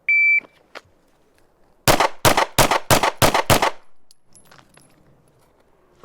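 A concealed carry handgun fires six sharp, loud shots in a rapid, even string on a range, with a beep of a shot timer before them and quiet clatter afterward.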